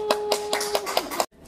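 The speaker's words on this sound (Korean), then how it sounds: "와, 박수!" Six sharp, evenly spaced hand claps ring out close by at a steady beat, with a held tone sounding beneath them before everything cuts off abruptly.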